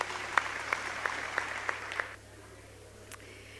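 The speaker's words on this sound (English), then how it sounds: "Please give her a round of applause" Audience at the SAIBPP 2014 Convention applauds as vice president Ms. Nkuli Bohoba is called up, a few sharp louder claps standing out within steady clapping that stops abruptly partway through, leaving quiet room tone.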